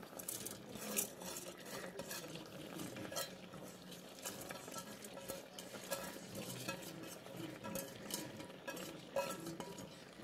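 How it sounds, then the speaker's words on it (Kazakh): Rice is poured and stirred into a pot of boiled meat for pilaf, with soft scraping and clinks of a utensil against the pot and faint bubbling, quiet and close, with no talk. "Енді күрішімізді салып жатырмық міне"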